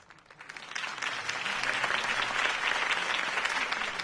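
Steady applause from a large crowd in a Telltale Batman video game, a dense wash of clapping that swells quickly and holds, heard at a distance with no speech.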